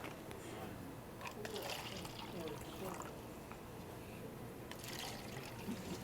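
Water tinted with yellow food colouring is poured through straws set in cups, giving a faint, steady trickle and splash over a noisy background.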